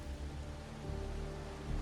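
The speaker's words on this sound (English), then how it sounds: "It's the real Retroact rain." Steady rain falls in the video game Wuthering Waves, a soft continuous hiss with a low rumble beneath, short and unbroken.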